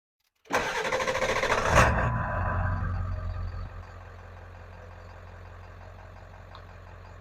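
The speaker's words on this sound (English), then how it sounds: "let's go ahead and start the truck." A Ford 7.3 Powerstroke diesel pickup truck cranks and fires up with a loud, close burst, then settles into a steady, rumbling idle with no talk.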